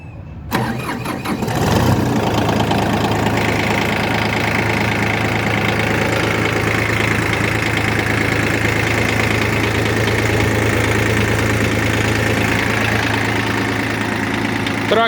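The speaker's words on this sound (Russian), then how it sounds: "Трактор завелся очень легко." A Shibaura SD2203 compact diesel tractor with 967 engine hours, glow plugs preheated, cranks briefly and catches within two seconds, then settles into a steady, loud, even diesel idle that runs on alone with no talk.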